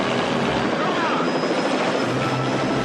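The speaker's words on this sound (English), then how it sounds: "You've got the helicopter hovering down just like that" A helicopter hovers low in a film scene, its rotor and engine making a loud, steady, dense wash of noise that holds without a break.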